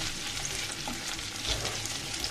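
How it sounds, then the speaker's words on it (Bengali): Potatoes frying in a pan on a stovetop, a steady close sizzle with faint scraping, continuous and fairly quiet throughout with no voices. "আলুগুলোকে বেজে নিচ্ছি"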